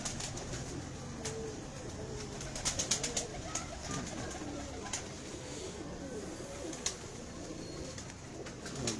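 Pigeons, including a favoured hen kept by a fancier, coo softly and steadily at close range, with a few sharp flutters and clicks breaking in along the way.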